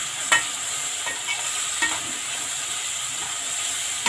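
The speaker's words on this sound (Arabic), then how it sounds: "انزل عليه بايه؟ بطماطميتين كده مقطعاهم ومع قرن الفلفل ده" Tomatoes and a chili sizzle with fried onions in a pan for kabsa, a steady bright hiss broken by a few light stirring clicks.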